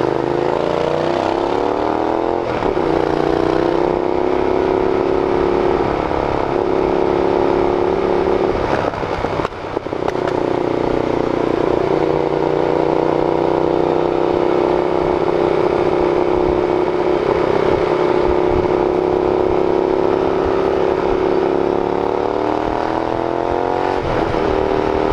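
A GT650R motorcycle on the move, its engine droning loudly and steadily for the whole stretch, with pitch dips and rises as the clutch engages and gears shift.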